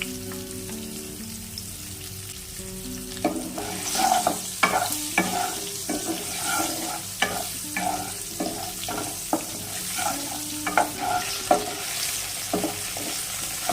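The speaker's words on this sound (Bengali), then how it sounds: "ডাঁটাগুলোকেও খুব বেশি ভাজবো না, হালকা নাড়িয়ে আমরা নামিয়ে নেব" Vegetable stalks with salt and turmeric lightly frying in a pan for dal shuktani, a constant sizzle broken by repeated spatula scrapes and knocks in an uneven rhythm, close by.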